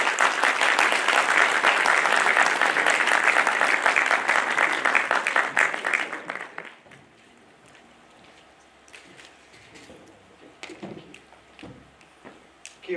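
An audience at a bioethics lecture claps loudly for a professor called to the stage. The dense applause lasts about six seconds, then fades to scattered faint claps and room noise.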